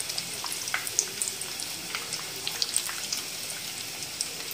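Potato cutlets filled with chicken and vegetables shallow-fry in a little ghee and oil over a medium flame, with a soft, continuous sizzle and scattered crackling pops, fairly quiet and without talk.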